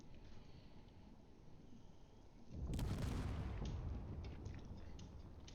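A small destroyer ship blows up in the game Space Engineers: a sudden deep boom rises out of low rumbling background and rolls on as a sustained roar with scattered crackles.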